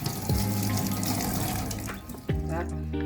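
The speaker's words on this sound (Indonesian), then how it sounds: "kayak bahan-bahan ini tinggal cuci-cuci aja" Tap water runs into a sink as fruit ingredients for an iced fruit drink are washed under it, a steady close splashing stream with brief changes in pitch as the flow hits the produce.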